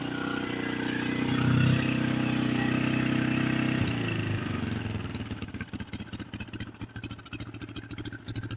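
A 2005 KTM 525 EXC dirt bike engine turns over and catches, settling from a continuous roar into a rapid, even idle thump, close and loud with no talk.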